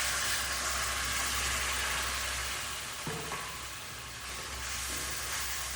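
Spiced curry masala, oil separated, frying in a pan for a Bengali paneer kofta curry, a loud continuous sizzle and hiss that dips briefly as hot water goes in, then roars steadily again.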